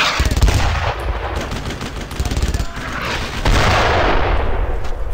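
An MG-42 machine gun fires in the World War II video game Brothers in Arms: Road to Hill 30. It gives loud, rapid bursts of automatic fire with other shots and battle noise mixed in.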